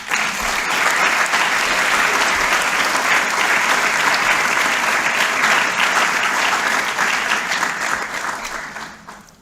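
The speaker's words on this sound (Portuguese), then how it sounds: "mais uma salva de palmas" A large audience claps continuously at a university clinical cycle ceremony, dense and loud applause sustained for several seconds before tapering off at the end.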